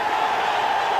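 A big boxing crowd in Mexico City roars steadily and loudly throughout, a dense, unbroken wash of cheering at a Julio César Chávez WBC super lightweight title defense against Ángel Hernández.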